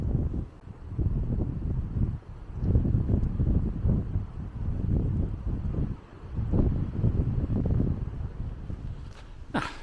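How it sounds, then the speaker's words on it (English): Wind blows strongly outdoors on a countryside walk in South Wiltshire, a low rumbling buffet against the microphone that surges and eases in gusts over about ten seconds, with no voices. "A bit of shelter from the wind, not total, but a little bit of shelter from the wind as well."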